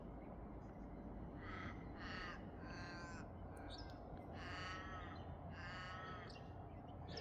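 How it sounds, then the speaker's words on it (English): A crow caws in a run of harsh repeated calls at sunrise by a calm bay, somewhat distant over a steady wash of outdoor noise, with no talk. "when I hear that little crow up there"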